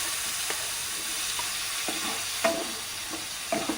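Chopped tomatoes, onion, ginger and garlic sauté in hot oil, giving a steady close sizzle with a few spoon scrapes and stirring clacks spaced through it.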